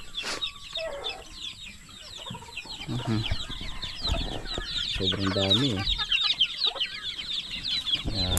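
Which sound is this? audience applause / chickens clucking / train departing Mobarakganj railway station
chickens clucking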